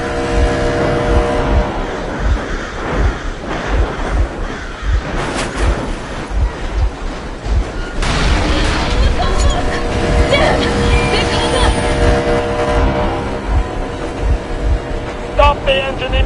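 A vehicle engine runs steadily in the Metro Exodus video game, a continuous rumbling drone mixed with game music and effects, with voices speaking over it throughout.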